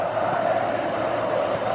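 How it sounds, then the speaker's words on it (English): Football stadium crowd at a Dynamo Kyiv, Inter, Milan or Lyon match giving steady applause and general noise, a broad continuous roar without distinct peaks, heard alone. "Crowd appreciates good football all round there."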